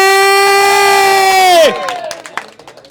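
A crowd at a watermelon eating contest cheers, with a loud sustained whooping tone that drops off sharply, then scattered clapping and shouts trailing away.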